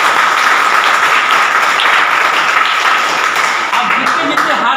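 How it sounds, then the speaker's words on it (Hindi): Loud clapping from students at a school prize event at Saint Joseph Inter College, Mau, dense continuous applause for several seconds with some talk mixed underneath. "जोरदार तालियां होनी चाहिए।"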